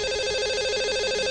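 An outgoing call on a radio show plays as a steady, unbroken electronic ringing tone, moderately loud and with no voices over it.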